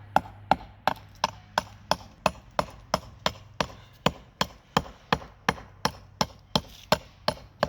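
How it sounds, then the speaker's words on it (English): A hammer strikes flagstone in a steady rhythm, around twenty sharp, close knocks spaced evenly apart, chipping small pieces off a saw-cut edge, with no voices. "I'm taking the hammer and removing these little chips of stone"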